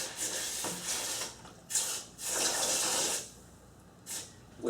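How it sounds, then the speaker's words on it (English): A hot forged knife made from a lawnmower blade plunged into water, giving several bursts of hissing, bubbling sizzle that surge and fade over a few seconds, close and fairly quiet. "We're going to quench it"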